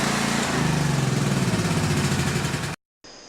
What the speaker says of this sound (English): Generators with electric starts are easy to operate.